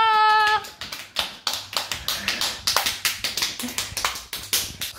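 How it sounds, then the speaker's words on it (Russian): Small group of people clap at a five-year-old boy's birthday party right after singing and cheering, the claps forming a steady, close run of sharp taps that continues for several seconds. "Аплодисменты."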